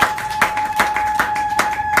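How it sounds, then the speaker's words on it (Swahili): A church congregation at a Bible study claps for the Lord in a steady, rhythmic beat of about two claps per second, loud and close, with a sustained musical tone underneath. "Hebu nipe makofi kwa ajili ya Bwana kwanza."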